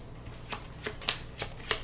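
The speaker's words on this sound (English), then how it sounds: "shuffle these back in" Magic: The Gathering cards being shuffled during a tabletop playtest match: repeated short riffling bursts at a steady rhythm, close and clear, with no talking.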